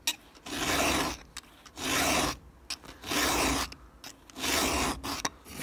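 Rhythmic rasping of a hand file sharpening chainsaw teeth, about five steady back-and-forth strokes per tooth, close and loud with brief pauses between bursts.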